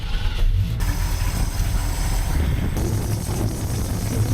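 Ford F250 engine with a freshly rebuilt carburetor and a 6.5 power valve revved at about half throttle, a loud, steady low rumble with raised mechanical roar that holds throughout and eases slightly partway, no talking over it.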